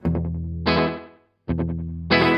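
Electric guitar run through a Universal Audio UAFX tape delay pedal, two short melodic phrases each ending in a loud sustained chord with repeating echo tails, close and alone with no talking.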